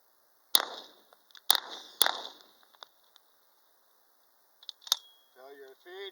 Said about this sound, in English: So we'll try this from more of a Uzi style shooting.